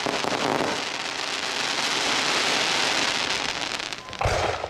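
A consumer fireworks cake fires a time rain cross set shell, giving a dense, continuous crackling hiss that fills the whole stretch, loud and sustained, with a brief lull and renewed burst near the end.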